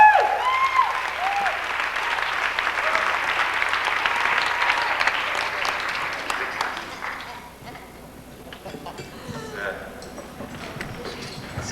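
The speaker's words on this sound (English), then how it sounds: "give a big, fat, juicy round of applause for the illegitimate players" Audience at a 1990 orchid show applauds the players; a dense round of clapping that thins out and fades to scattered claps, with whoops and voices around it.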